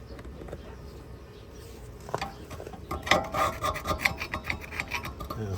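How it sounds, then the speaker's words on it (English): Wire brush scrubbing contaminants from the rear brake parts of a VW Passat B6, with quiet rasping that turns into louder, rhythmic back-and-forth strokes close to the microphone. "We can use a wire brush to remove any"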